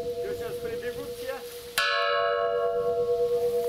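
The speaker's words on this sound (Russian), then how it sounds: "И тут разные колокола, дети" A church bell in a bell tower strikes once with a sharp clang and rings on with a long, shimmering decay, following a softer sustained bell tone under faint background chatter.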